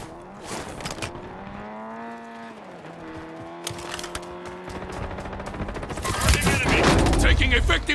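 Gunfire in Call of Duty Warzone on the Urkistan map, with bursts of rapid shots that build to dense, loud firing near the end, mixed with a sustained tonal game sound and a brief voice.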